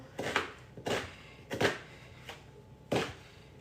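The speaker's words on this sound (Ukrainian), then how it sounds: "Розрізаю цибулю" A kitchen knife slices through onions on a cutting board, five crisp, separate chops at uneven intervals, close and fairly quiet with no talking.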